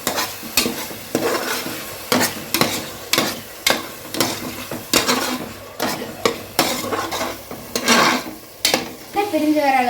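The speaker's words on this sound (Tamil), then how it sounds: "இப்போ நல்லா கலந்து விட்டுக்கலாம்." Tomato masala frying in a pan for biryani gets stirred with a spoon, giving rhythmic scraping strokes roughly every half second over a steady sizzle, close and fairly loud.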